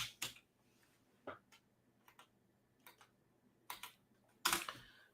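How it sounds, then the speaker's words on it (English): A computer keyboard is typed on in scattered, faint taps and short clusters of clicks, close by in a quiet room with no talking. "let's type that in."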